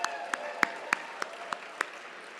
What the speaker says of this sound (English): join me in giving the sponsors of tonight's event a big round of applause